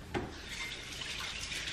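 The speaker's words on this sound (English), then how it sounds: "Wash my hands first, of course." Tap water runs steadily into a sink for hand washing in a home kitchen, a continuous broadband rush that holds level for the whole short stretch, alone with no talking.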